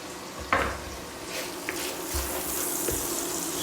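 Sliced garlic hitting a hot pan of chorizo, sizzling steadily and close with a few sharp crackles and utensil scrapes over a continuous bright frying hiss.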